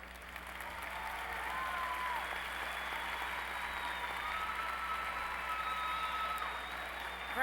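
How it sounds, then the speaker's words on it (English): Audience applause for arts, letters and sciences graduates at a university spring commencement ceremony, a steady, fairly distant wash of clapping from a large crowd that holds for several seconds under faint background tones. "applaud the Arts and Letters and Sciences graduates"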